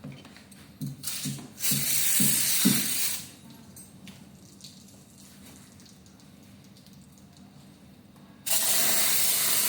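Water sprayed in short bursts and a longer hiss while clear paint protection film is fitted to a Toyota Alphard A30; close, several quick sprays early, then a steady hiss that returns loudly at the end.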